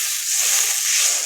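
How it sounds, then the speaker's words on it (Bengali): Water pours into a cooking pot for a sour spinach and eggplant shukto with small fish, making a steady bright hiss and splash that holds unbroken for a brief moment. "জল দেবো"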